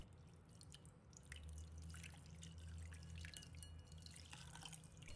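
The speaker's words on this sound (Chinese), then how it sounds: "先倒入开水，" Boiling water poured over two blocks of soft tofu in a home kitchen: a quiet, steady trickling and dripping stream that runs for several seconds, faint and close, with no voices.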